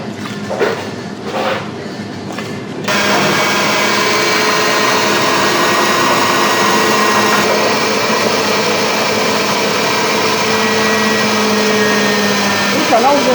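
Adjika ingredients with salt added being mixed in an electric blender, a steady loud whirring motor drone that starts abruptly after a few seconds of quieter clatter and continues unbroken.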